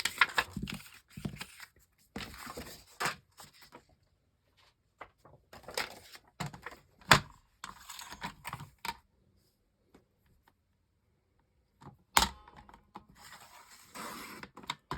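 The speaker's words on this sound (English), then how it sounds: "So I'm going to trim this off and then use this to get another piece out of this piece" Paper or card being trimmed for a handmade Valentine's craft project, a series of short scratchy cutting and rustling bursts separated by quiet gaps.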